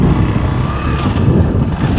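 A motorcycle engine runs steadily while the rider slows and shifts down to first gear on a rough road, its low rumble close and continuous, with no obvious rev spikes.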